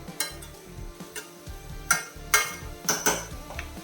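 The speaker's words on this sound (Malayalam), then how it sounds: "വേഗത്തെ ഇളക്കി കൊടുത്തോണേ ഇപ്പൊ കുറച്ചുകൂടെ വേകാനുണ്ട്" Cheera thoran, a spinach stir-fry, is stirred in a pan with a metal spoon, making a series of short clinks and scrapes in an uneven rhythm, close and fairly clear over a faint background hum.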